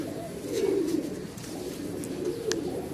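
A pigeon gives soft, low cooing close by, two rolling coos in quick succession over a quiet backdrop.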